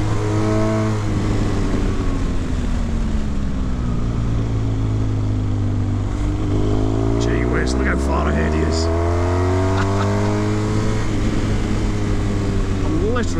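A Yamaha MT10 motorcycle engine revs hard and climbs through second and third gear, pitch rising and dropping at each shift, loud and close over steady wind rush, with a voice speaking over it.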